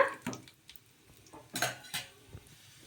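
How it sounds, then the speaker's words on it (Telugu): Urad dal being stirred in a pan while tempering: a few scattered metallic scrapes and clinks of a spoon against the pan, close and intermittent, with faint sizzling between. "కొన్ని మినప్పప్పు ఇలా ఈ విధంగా వేసుకొని అన్నీ ఒకసారి బాగా కలిపేసుకుందాము"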